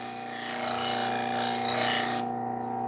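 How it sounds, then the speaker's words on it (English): A knife edge rubs against a running Scotch-Brite belt to strip off the burr, a close abrasive hiss over a steady machine hum that cuts off near the end. "Scotch Brite belt just to get some of that burr off."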